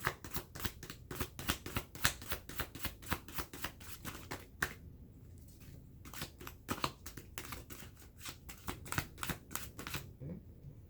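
Cards from a John Holland Psychic Oracle deck are shuffled close by in quick, dense riffles of papery slaps and flutters, with a short pause midway before the shuffling resumes.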